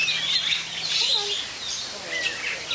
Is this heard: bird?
yes